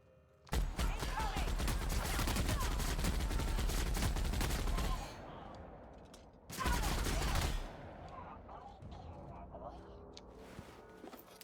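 A weapon fired in The Outer Worlds, a long rapid stream of loud close automatic shots that stops, then a second shorter burst follows, with a mechanical whir trailing off afterward.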